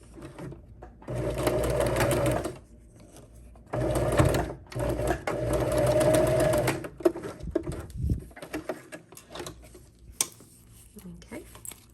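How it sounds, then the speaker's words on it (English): A sewing machine runs slowly over the metal teeth of a zipper on a crossbody belt bag, humming close and loud in two long bursts, then giving way to a few shorter stitching spurts and clunks. "I just like to go slow and guide my machine over those metal teeth."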